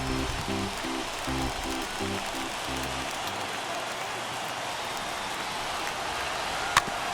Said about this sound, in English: right now this field is getting sloppy wet, man, and I don't know how much more rain this field can take